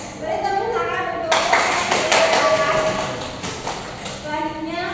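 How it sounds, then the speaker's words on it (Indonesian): A classroom group applauds during a lesson on angles, with quick, dense hand clapping bursting in after a second and continuing for about three seconds before fading, while a teacher's voice is heard around it. "Beri tepuk tangan untuk"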